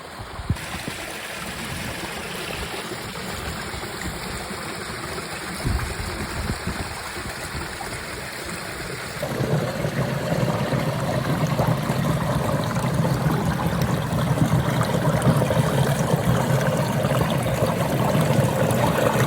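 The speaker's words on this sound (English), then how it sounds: "A little bit further up the waterfall, it's another set of cascades." Water pours down rocky cascades of Cascade Falls in the Wichita Mountains canyon, a steady close rushing and splashing that grows fuller and louder partway through, with no voices.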